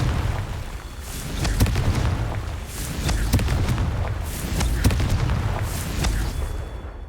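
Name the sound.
Confringo spell blast, video game Hogwarts Legacy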